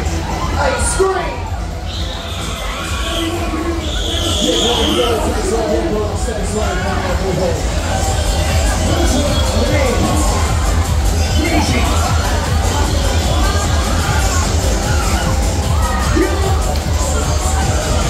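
Riders scream and cheer nonstop on a spinning Waltzer fairground ride at Nottingham's Goose Fair, a dense crowd roar with music and an operator's amplified voice mixed in.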